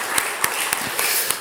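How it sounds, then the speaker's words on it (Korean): Congregation in a Korean church clapping together, a steady dense patter of many hands with a few sharper accented claps, close and loud with no talking. "우리 고마우신 하나님, 좋으신 하나님께 우리 박수로 큰 영광과 감사를 올려드리겠습니다"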